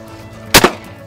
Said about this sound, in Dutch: Prachtig mooi schot.